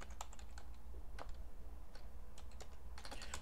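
Typing on a computer keyboard while entering a command for a Gatsby or Next.js project, with several clusters of sharp key clicks spread irregularly across a steady low background hum, close and fairly quiet.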